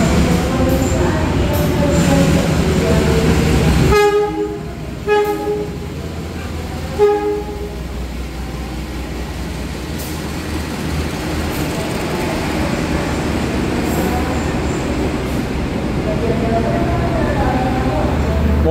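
A passenger train of the Gunung Jati line, a locomotive hauling two coaches and a generator car, rumbles along steadily, with a clattering rhythm of wheels on rails and a brief horn-like tone early on, loud and close.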